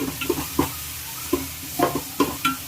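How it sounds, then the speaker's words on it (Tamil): Crushed garlic sautéing in a pan for fish curry, with soft sizzling under repeated scraping stirs of a spoon, about eight light strokes in uneven rhythm, close and fairly quiet. "வதங்கிட்டு இருக்குது."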